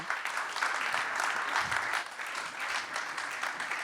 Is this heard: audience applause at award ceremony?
yes